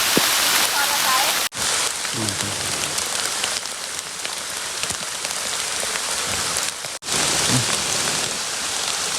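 Heavy rain pours down steadily in a forest during mushroom picking, a dense close hiss of drops on leaves and surfaces, with someone speaking briefly and handling noise underneath.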